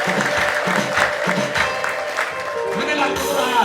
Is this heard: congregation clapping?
yes